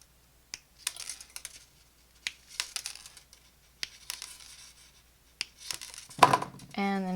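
Wire cutters snip beading wire for small French beaded daffodil petals, a series of sharp, close clicks spaced irregularly, with soft handling rustles between them.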